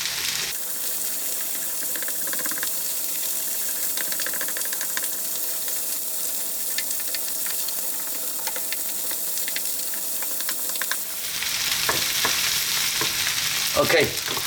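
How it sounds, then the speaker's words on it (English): Eggs cook at the side of a chicken fried rice pan, a loud steady hiss and sizzle that swells into a harsher, brighter crackle with clattering stirs toward the end, no talking. "we're going to cook them just on the side here until they're ready"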